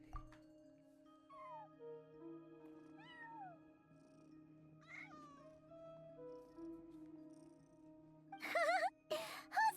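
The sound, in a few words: cat meowing in the video game Genshin Impact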